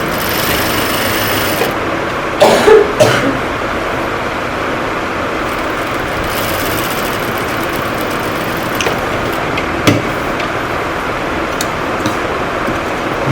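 A sewing machine stitching fabric, a loud, close, steady mechanical whir running almost continuously with a few brief knocks and pauses, no talk.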